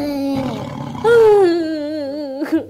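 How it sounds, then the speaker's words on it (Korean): A tiger roars in a forest, trapped in a deep pit: one loud, drawn-out tonal roar that rises and wavers before trailing off into short growling bursts, heard alone with no talking. "호랑이 소리 같기도 하고."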